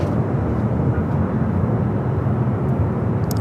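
JetBlue Airbus A321 airliner, flight 288 bound for Boston, at Los Angeles airport, giving a loud, steady jet roar that holds even throughout with no voices over it.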